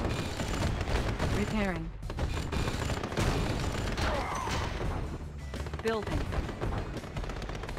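Dense gunfire and explosions rattle through a Red Alert 2: Yuri's Revenge base attack, loud and continuous, with bursts of rapid shots and booms under brief spoken game announcements.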